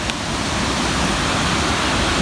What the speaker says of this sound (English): And this is the amazing waterfall.